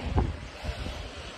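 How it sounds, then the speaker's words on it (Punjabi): Wind buffets the microphone in soft, low rumbling gusts, with a brief louder push near the start, no voices. "ਹਵਾ ਚੱਲ ਰਹੀ ਹੈ ਤਾਂ ਮੌਸਮ ਠੀਕ ਆ"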